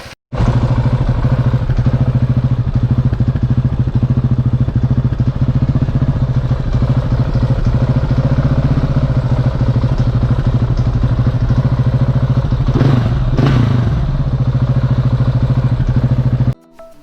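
A KTM SMC R 690 single-cylinder motorcycle engine idles steadily to warm up, a loud continuous low throb with mechanical clatter, close by and alone, with a brief shift partway through before it cuts off.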